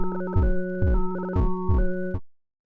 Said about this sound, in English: I made a small self-playing patch on it the other day that sounds like this.